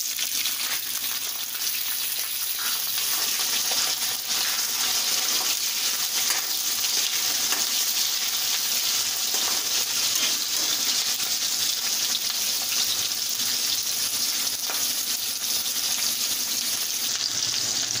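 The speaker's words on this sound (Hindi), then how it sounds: "हरी मिर्ची फ्राई हो गई है" Green chilies frying with mustard seeds and cumin in hot oil for a raw papaya vegetable dish, giving a steady, even sizzle that stays at one level throughout with no voices.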